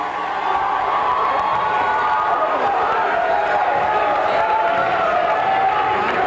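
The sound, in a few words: crowd cheering at a high school basketball game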